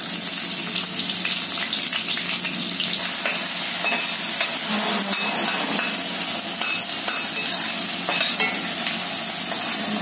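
Onions frying in a pan for a spicy broad bean pod dish: an even, dense sizzle runs the whole time with faint stirring clicks, close and steady, no one talking.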